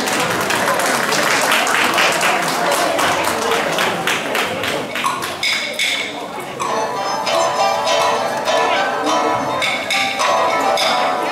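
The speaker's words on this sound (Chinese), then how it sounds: "请大家用掌声欢迎他们" An audience applauds at a community college autumn-term showcase of a staged opera piece. The clapping is loud, dense and continuous, with crisp individual claps standing out through the whole stretch.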